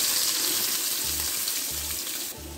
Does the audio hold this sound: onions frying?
yes